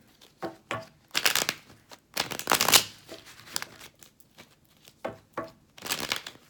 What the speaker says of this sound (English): One more shuffle for Scorpio.